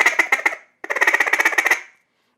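Duck chatter blown on a handheld duck call, imitating the clicking call of ducks flying overhead: two quick bursts of rapid, raspy clicks, close and fairly loud, with a short pause between them.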